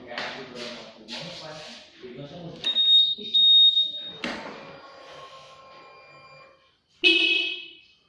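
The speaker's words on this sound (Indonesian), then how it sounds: "Itu bunyi klakson standarnya." The stock horn of a Honda PCX scooter gives a couple of short, high, shrill beeps close by, set between stretches of speech.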